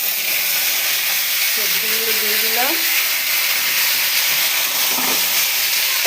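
Vegetables frying with dried chillies in a hot pan give a steady, loud sizzle and hiss throughout, with a brief voice speaking over it partway.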